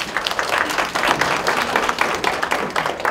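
An audience claps to welcome a speaker at a regional desalination initiatives session, a brief, fairly full round of applause with an uneven, fluttering texture throughout.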